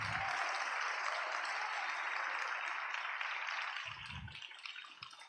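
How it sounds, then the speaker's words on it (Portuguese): Congregation applause at a charismatic church preaching and prayer service, a dense steady patter of many hands filling the room, thinning out toward the end with a couple of low thumps. "Aplauda a Jesus"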